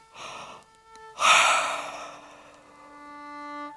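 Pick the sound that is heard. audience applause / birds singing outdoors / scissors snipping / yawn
yawn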